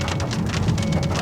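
Heavy rain pours down in a loud, continuous drumming hiss, close and unbroken, with no talking, during a hailstorm at Parashar Lake.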